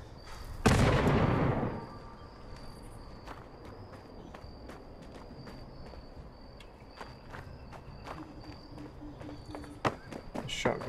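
A shotgun blasts once in the video game Fallout 76, a loud broadband boom that fades quickly, followed by a steady stream of lighter clicks and faint thuds from footsteps and game action.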